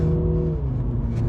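Mini JCW GP3 engine pulling hard, a steady loud drone that rises in pitch, drops briefly at a gear change, then climbs again, close and continuous with no talk.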